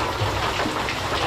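Steady rain falls in a dense, even hiss with no pauses, close and fairly loud, with no voices.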